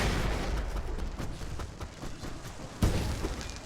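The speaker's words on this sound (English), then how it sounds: "Yeah, I'm gonna flashbang again." A flashbang goes off in the game Alan Wake Remastered, a sharp burst near the end over a rumbling, noisy game backdrop, moderately loud with no talk.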